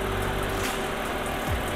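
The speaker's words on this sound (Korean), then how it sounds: "엔진 소리도 일정합니다" Lexus ES350 XV60 engine idling with a steady, even hum, heard close in an open engine bay.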